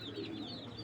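Grizzle female racing pigeon cooing softly, a low steady murmur lasting under a second, faint and close with no talk.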